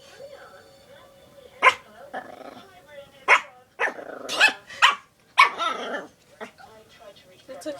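A female dog barks sharply and growls up close at a girl's hands, with loud bursts spread through the clip between stretches of quieter growling, while people talk around her.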